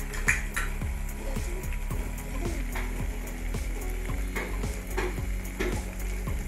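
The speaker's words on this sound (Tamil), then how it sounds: "சேர்த்து நல்லா மிக்ஸ் பண்ணி விடுங்க" Chili, coriander and garam masala powders stirred in a pan, a steady run of spoon scrapes over a continuous sizzling background, close and even, with no talking.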